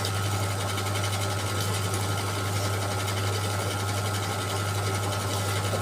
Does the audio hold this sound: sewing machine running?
yes